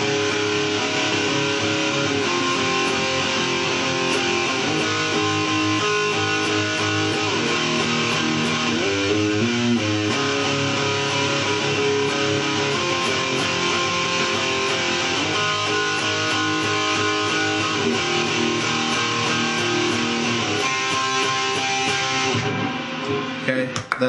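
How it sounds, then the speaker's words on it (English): Electric guitar plays a song's chorus chord progression, a sustained, loud strummed chord sequence that rings on continuously for about twenty seconds with no talk. "It's a pretty simple chord progression I'm sure a lot of you are familiar with."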